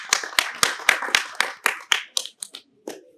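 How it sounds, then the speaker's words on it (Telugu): A crowd claps at a religious gathering honouring a film team, in about ten sharp, separate bursts that grow thinner and fade out toward the end. "ఒకసారి గట్టిగా క్లాప్స్ కొట్టు"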